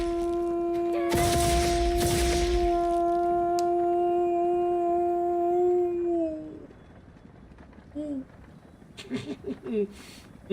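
Monster in Monster Hunter World letting out a long, loud sustained howl with a steady pitch that fades after several seconds, followed by a few short yelping cries; a person talks during the clip.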